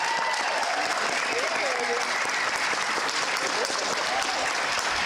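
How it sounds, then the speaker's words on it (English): An audience at a staff recognition awards ceremony applauds the honourees with continuous, dense clapping that holds steady and loud throughout, with faint voices murmuring underneath. "please join me in giving them a round of applause"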